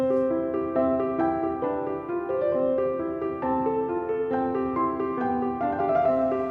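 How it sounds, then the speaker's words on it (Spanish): Mozart's Piano Sonata K545 played on piano, with steady flowing notes and chords running continuously at moderate volume, and no voices. "Esta sonata es de Mozart. K545 se llama la sonata."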